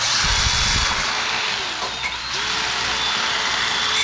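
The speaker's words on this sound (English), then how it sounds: "we're going to wire brush this to kind of clean up the surface" A power wire brush scrubs the flange face of a test pipe on a 300ZX turbo swap, a loud continuous whirring grind that runs steadily before cutting off abruptly at the end.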